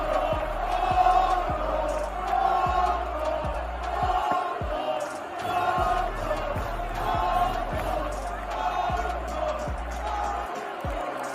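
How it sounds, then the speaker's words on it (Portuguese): Valencia football fans in a packed stadium shout abuse at Vinicius Jr, loud rhythmic crowd chanting with repeated sharp thumps, steady and continuous. "podemos ver claramente a torcida do Valência ofendendo o Vini"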